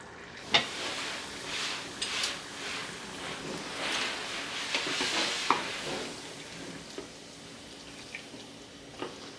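Chicken fajita sizzles and fries in a pan on a stove, a steady crackling hiss broken by scraping stirs and clicks of a utensil, close and continuous with no one talking.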